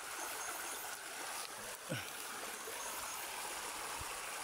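Flowing water of a small creek, a continuous broadband rush and trickle heard fairly close, with a brief splash or knock partway through and no talk.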